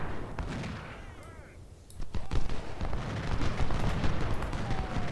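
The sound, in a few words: musket and artillery fire in video game Ultimate General: Civil War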